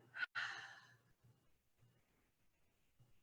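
A deep audible inhale and long exhale during a calm guided pause, close and soft, followed by faint quiet breathing.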